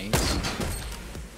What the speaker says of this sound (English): I'm about to use these impulse grenades.